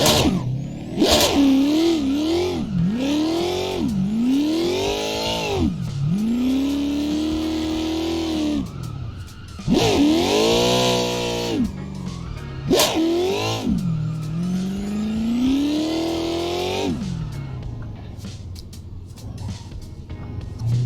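A car drifting in the racing sim Assetto Corsa, its engine revving up and dropping repeatedly in rising and falling sweeps, with tire squeal between pulls. Loud and continuous throughout.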